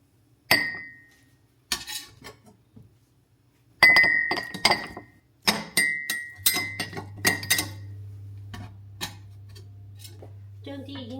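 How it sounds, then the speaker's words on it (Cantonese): Cooked onions for French onion soup are portioned into three bowls, giving scattered glassy clinks and utensil taps in separate bursts, close and moderately loud, with a steady low hum beneath. "咁就將佢分喺3個碗裏邊啦"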